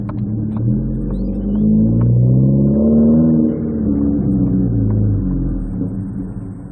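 A five-speed Mazda 3 engine hums steadily with a low rumble while driving, rising slightly in pitch as it accelerates, heard from inside the car with no talking.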